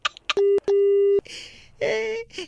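A telephone busy signal after a call is hung up on a radio prank-call show: steady electronic tone pulses, two long beeps in a row, with brief background voices around them.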